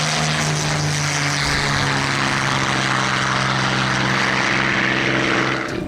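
A Stirling GT sports car in GTA Online drives with its engine droning loud and steady, a deep propeller-like hum reminiscent of an old Merlin aero engine, held continuously without any pause.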